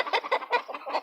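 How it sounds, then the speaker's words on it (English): Hens laying eggs cluck in short, rapid bursts, several birds chattering close together in an enclosed hen house. "They're all in there laying eggs. Hear them in the Flat Earth Chicken House."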